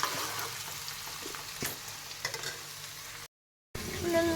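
Onions frying in a pan, a steady close sizzle with occasional stirring scrapes, broken by a brief silent gap near the end.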